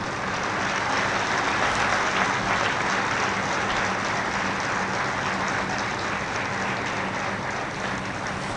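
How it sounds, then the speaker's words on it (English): Audience at a management institute convocation in New Delhi giving a round of applause, a broad, sustained roar of clapping from a large hall crowd, steady and full for several seconds. "Can we have a round of applause for them?"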